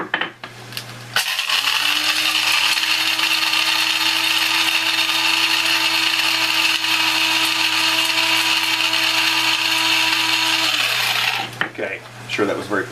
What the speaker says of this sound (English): So we're going to take these into the grinder.